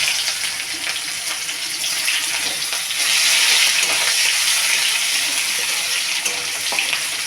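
Onion frying in hot oil for a light chicken curry, giving a loud, steady hissing sizzle that swells a little partway through, with no talking.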